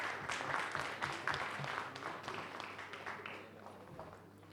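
Audience applause welcoming the Secretary DFS of the Government of India onto a conference stage, a dense wash of clapping from a sizeable crowd that holds steady and slowly thins over several seconds, with some faint talk underneath.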